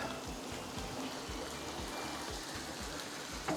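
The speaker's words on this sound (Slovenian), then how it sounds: "Tako priteka voda ven iz jame." Spring water flowing out of a rock cave near the ruined castle at Momjan, a steady close rushing stream with faint rhythmic low thumps beneath it, no voices.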